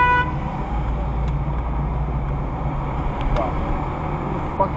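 A vehicle horn gives one short toot at the very start, then steady road traffic rumbles on with faint background noise.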